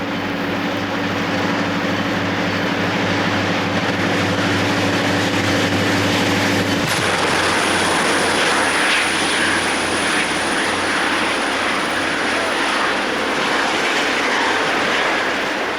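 A New York Susquehanna & Western freight train moves through Howells Junction, New York, in the 1980s, diesel locomotives droning loudly before a sharp shift to a broad rumbling roar with a thin high squeal, near and continuous.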